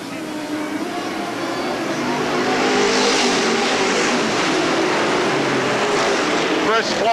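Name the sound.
race cars on speedway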